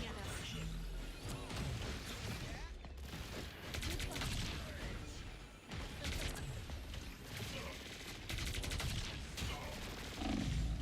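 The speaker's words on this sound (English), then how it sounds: "Someone is shooting at us." Dense gunfire rains down on players in a shooter video game: rapid bursts and volleys of shots crackle loudly and almost without pause, with clattering impacts mixed in and player voices talking under the barrage.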